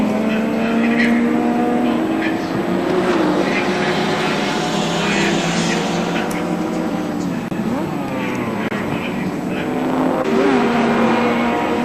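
Peter Brock's touring car screams past on the Sandown circuit during the 1984 Castrol 500, a loud, sustained engine roar with pitch shifting as it passes, alongside other race cars, with a commentator's voice faintly underneath.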